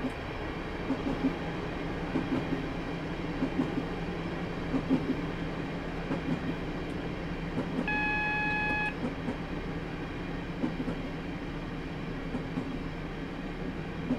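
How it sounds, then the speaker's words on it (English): Class 150/1 diesel multiple unit in Train Simulator 2017 coasting and braking on the Barking to Gospel Oak line, a steady close rumble of wheels and running gear with a brief electronic beep tone in the middle. "I'm continuing to coast to allow the train to lose speed, and then I'm going to brake for the 20 mile per hour speed limit"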